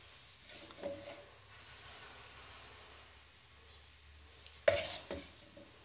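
A spoon clinks and scrapes against a pan while shaping hot sugary cough drop mixture into balls, soft sporadic taps with one sharper knock, faint and close.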